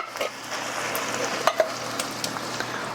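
Canned petite diced tomatoes being stirred into sizzling ground meat and softened onions for lasagna, a steady soft sizzle with a few scraping clinks from a utensil.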